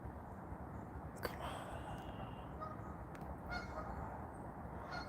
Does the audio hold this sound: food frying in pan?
no